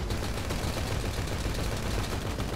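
Gunfire in Grand Theft Auto V Online during a heist: rapid, continuous automatic shots crackle loud and close in an unbroken barrage.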